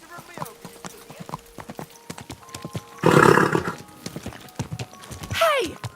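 Rapid clip-clopping hooves patter continuously with a horse's whinny and a burst of noisy commotion, all with a crisp, synthetic game-like quality, in Kingdom Come: Deliverance II.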